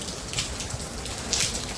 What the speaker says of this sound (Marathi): बघा किती पाऊस पडतो.